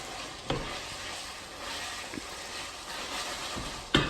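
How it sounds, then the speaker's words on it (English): Steady sizzling hiss of mince and mixed vegetables frying in a pan, with a few sharp clatters of stirring or utensils against the pan. "So now it's frying and everything."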